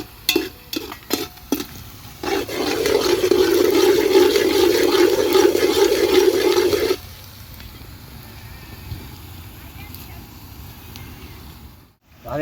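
Masala rice ingredients, with peas among them, roast in a pan with a steady, loud sizzling hiss for several seconds, set between a few stirring clatters and followed by quieter background hiss.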